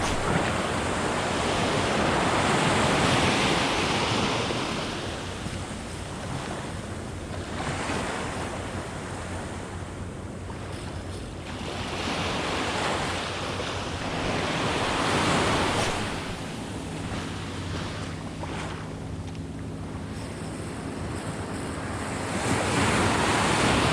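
Ocean surf breaking on a New Jersey beach during fall saltwater fishing, heard as a continuous roar that swells and eases with each wave, mixed with wind buffeting the microphone; no one speaks.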